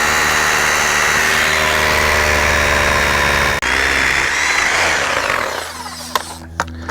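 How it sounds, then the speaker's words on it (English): A power drill bores a hole in concrete for a gate post. Its loud, steady motor whine grinds on for several seconds, then winds down into scattered clicks and scrapes. "Now we got to drill the hole in our concrete so it can stay in place."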